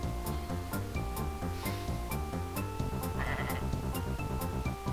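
Sheep bleat in the game Super Noah's Ark 3D over a busy, steady loop of music and repeating chimes, the bleats faint and partly buried in the soundtrack.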